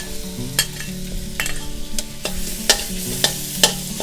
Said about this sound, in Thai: เสร็จแล้วเราก็เอากระเทียมสับนะคะ ใส่ลงไปในน้ำมันเดิมเนี่ยเลยนะคะ